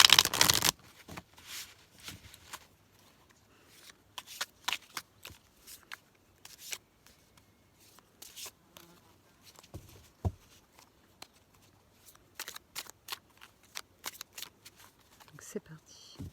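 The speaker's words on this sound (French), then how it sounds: "Je suis jamais très à l'aise à mélanger les cartes avant." Tarot cards shuffled by hand at close range, giving a steady patter of soft riffles and crisp flicks that rise and fall in short bursts with brief pauses.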